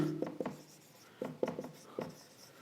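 Pen writing on paper during a maths lesson, short scratchy strokes in small bursts with pauses between them, faint and close.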